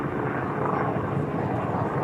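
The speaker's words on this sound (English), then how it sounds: "Can I hear a chopper somewhere?" A privately owned helicopter passes over Manchester Airport, its engine and rotor making a loud, continuous rumbling drone close overhead that holds steady throughout, with no talk.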